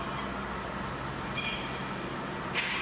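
A 2600mm plywood veneer peeling machine line runs with a steady mechanical drone and hum, broken by a couple of faint metallic clinks.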